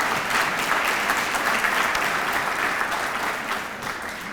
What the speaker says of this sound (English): Can they have a round of applause, please?